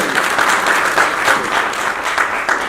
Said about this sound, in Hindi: पहले हम सब लोगों को इनके लिए एक बार जोरदार तालियां बजानी चाहिए